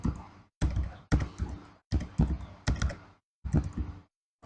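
Bursts of typing on a computer keyboard come in short clattering runs separated by brief pauses, close and fairly loud, with no talk.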